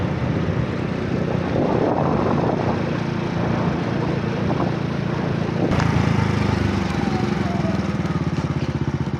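A motorcycle engine drones steadily up close as it rides along a village road in Vieng Xai, Laos, with faint background voices and a brief clatter partway through.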